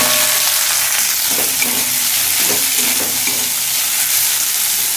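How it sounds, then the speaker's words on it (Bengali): Chopped onion frying with cumin seeds in hot oil for an ol chingrir dalna, a loud, steady, close sizzle with faint stirring taps throughout, no talking. "পেঁয়াজ লাল করে ভেজে নেব"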